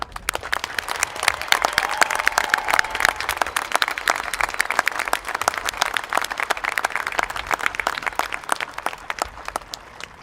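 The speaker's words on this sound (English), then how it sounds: "Let's give a generous round of applause for everyone who has been able to make this" Sustained applause from a high school graduation ceremony audience, many hands clapping steadily and densely throughout, a bright continuous patter with no speech over it.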